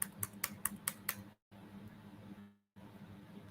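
A command typed on a laptop keyboard: a quick run of about six crisp key clicks, then a pause and a faint soft tap under a quiet room hiss, close and light, no speech.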